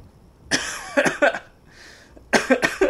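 A person bursts into several rough coughs mixed with laughter, close and loud, in two clusters separated by a brief pause.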